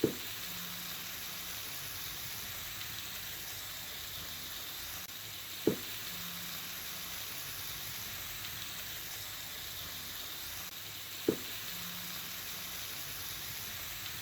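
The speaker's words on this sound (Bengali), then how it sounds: "আরেক টুকরো যে ছিল ওটাও আমি একইভাবে ভেজে নিচ্ছি।" A piece of beef steak frying in a pan produces a continuous soft sizzle at close range, broken by three brief sharp clicks spaced a few seconds apart, with no voices.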